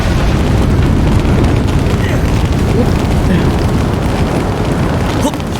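Stored firecrackers blow up inside a house in the samurai game Trek To Yomi, a loud continuous booming roar with crackling bursts that fills the whole stretch while a player voice exclaims over it.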